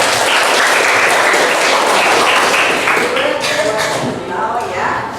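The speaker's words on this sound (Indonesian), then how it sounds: "Tepuk tangan buat" Loud, dense classroom applause from a group of students, steady clapping throughout that thins slightly toward the end, with faint voices mixed in.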